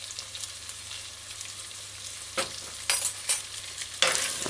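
Chicken chop suey simmers in a pan with wine vinegar added, giving a steady soft sizzle; a few louder hissing flares break through near the end, and no one speaks.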